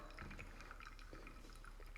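Water from a kettle streams steadily onto coffee grounds in a pour-over brewer during a 100-gram pour, a continuous soft trickle and splash close by with no voices.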